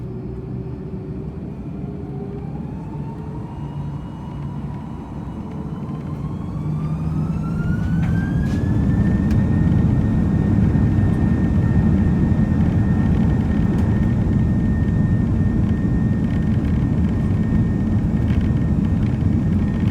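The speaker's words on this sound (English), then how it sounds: "I'll stop talking so you can listen to the takeoff." Airbus A330 takeoff roll heard from inside the cabin, a steady loud engine roar swelling as thrust builds, with a rising whine climbing in pitch over several seconds before leveling into a sustained high tone above the rumble.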